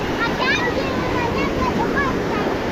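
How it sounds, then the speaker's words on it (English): Ocean waves break on a beach as a steady, broad rushing wash, loud and close, with faint bird-like chirps above it. "Oh, the waves come in."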